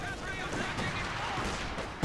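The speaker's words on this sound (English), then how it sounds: "Quick firing anti-aircraft gun." A quick-firing anti-aircraft gun in a World War II strategy game battle fires rapidly amid a dense, continuous wash of battlefield noise, ending on a heavier, louder thump.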